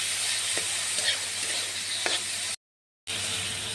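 Prawns mixed into browned fried onions in a pan, a steady close sizzle with faint stirring clicks, cut by a short silence near the end.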